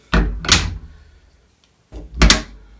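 A door fitted with a 3D printed adjustable spring-loaded ball catch slams shut twice, each time a loud, close pair of sharp thuds with a brief rattle, separated by a short pause.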